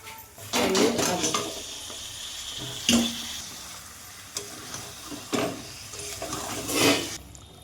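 Marinated potatoes frying in spiced oil for a paneer biryani, a soft sizzle under several louder stirring and scraping bursts spaced across the clip, close by and without talk.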